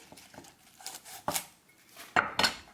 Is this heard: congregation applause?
no